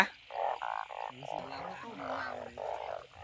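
Narrow-mouthed frogs croak after the first rain, a steady outdoor chorus of repeated nasal calls in close succession at moderate volume, with deeper overlapping croaks in the background.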